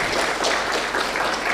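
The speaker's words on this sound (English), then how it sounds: "Let's clap for him again." An audience at a data protection certificate graduation ceremony claps for a professor, a steady, fairly loud burst of applause that fills the brief moment on its own.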